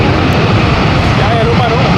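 Airplane landing at Matecaña International Airport, heard as a steady broadband roar close by, with people talking over it throughout.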